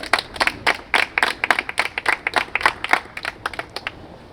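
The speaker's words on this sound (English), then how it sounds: "Give yourselves a round of applause." A small group gives a round of applause, scattered claps coming close together in an uneven, lively burst that lasts several seconds without a break and with no voices over it.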